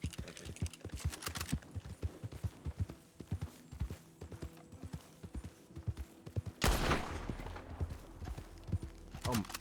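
Rapid bursts of gunfire in a Wild West roleplay game, sharp cracks clustered in quick volleys over the first seven seconds, then a louder blast near the end.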